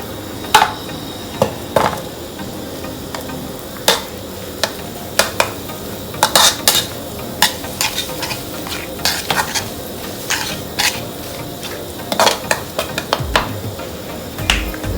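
Dried chilies are dry-roasted in a pan over medium heat, with a busy run of sharp, irregular clicks and scrapes from the spatula and pan over a faint crackle, loud and close with no talk.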